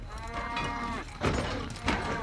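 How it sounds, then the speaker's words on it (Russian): A cow in the video game Scrap Mechanic lets out two short, close bleating moos in quick succession over a faint background hum. "Коровка."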